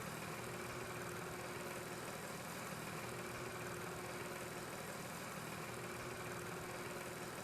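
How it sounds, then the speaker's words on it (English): Tractor engine idling in the farming game Farm Expert 2017, a steady, continuous mid-range drone with constant loudness and no talk over it. "I'd rather be the guy driving the tractor"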